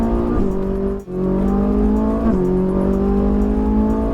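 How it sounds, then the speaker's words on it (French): A Ferrari 458 Italia accelerates hard in fourth gear on a track, its engine note climbing steadily, loud and close with a brief dip partway through, and no voices. "On va chercher l'extérieur, quatrième, voilà on pousse la 4, vas-y, on accélère."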